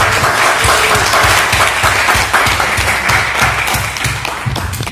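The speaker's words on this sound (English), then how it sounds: "I want to give applause for Alliance Francaisse" An audience at a European film festival applauds the Alliance Française, loud, continuous clapping from many hands with a lively, uneven rhythm, sustained throughout.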